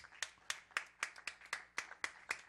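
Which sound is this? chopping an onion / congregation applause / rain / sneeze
congregation applause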